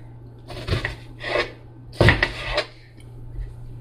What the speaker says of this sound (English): I'm just going to cut this in like half